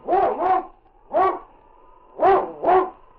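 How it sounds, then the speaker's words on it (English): A sled team's lead dog in an old-time radio drama barks four times in two quick pairs, loud and close, with quiet gaps between the pairs and no other sound. "It's Yukon King, swiftest and strongest lead dog of the Northwest"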